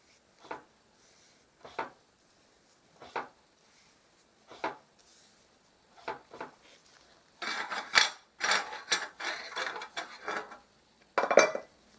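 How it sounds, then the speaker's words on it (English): Magnetic primer is stirred in its can with short separate scraping clinks at first, then a quicker burst of rattling, grinding strokes, close and fairly quiet. "I'll stir this up and get some more in here"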